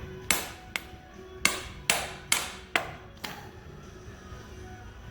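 Hammer blows driving a greased pilot bushing out of its bore, six sharp metallic whacks in an uneven rhythm, close and distinct, the last one softer.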